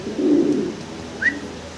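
A pair of blackless bontinet fancy pigeons gives one close, full coo, followed by a brief higher note a moment later, with no voices around it.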